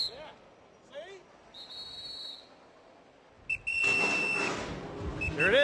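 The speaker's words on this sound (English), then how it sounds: "The whistle's blowing and the cars are flowing." A race official's whistle sounds in the NASCAR Cup Series garage to end the session, with several short shrill blasts over garage chatter and background noise.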